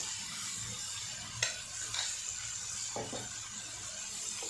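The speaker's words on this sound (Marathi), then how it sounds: "हे सर्व एक चांगलं मिक्स करून घेऊया।" Chickpeas with garlic and spices being stirred in a pan for masala harbara, a steady sizzle with a few spoon scrapes and clinks against the metal, close and fairly quiet.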